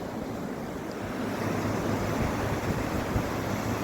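Steady broad wash of sea surf rolling onto a storm-damaged shore after Hurricane Melissa, continuous and fairly loud, swelling slightly partway through with a wind-blown roar and no voices.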